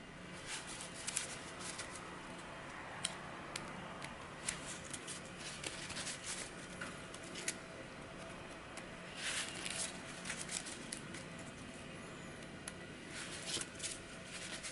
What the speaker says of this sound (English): We'll give this a quick shuffle.